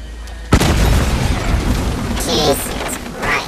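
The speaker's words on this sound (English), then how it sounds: "I planted 2 sticks of dynamite, so hope they blew the other ones too" Dynamite blast in Red Dead Redemption 2: a sudden loud boom hits after a quiet moment, followed by a long rumbling roar and scattered debris, with voices shouting over the aftermath.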